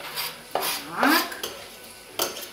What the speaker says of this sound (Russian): Хорошенько все перемешиваем.